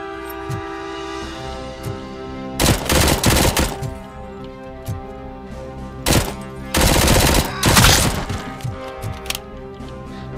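Heavy machine gun fire in the RoboCop: Violent City video game, played on extreme difficulty: two loud sustained bursts of rapid automatic shots with scattered single reports in between, set against a steady tonal game backdrop.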